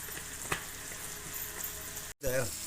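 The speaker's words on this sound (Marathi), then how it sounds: "इकडे मच्छीचे तुकडा पण कसला बघा चरत येत तेलात" Halwa fish pieces fry in oil with a steady soft sizzle, quiet and close, and a sharp clatter near the end.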